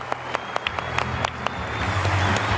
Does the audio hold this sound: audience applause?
yes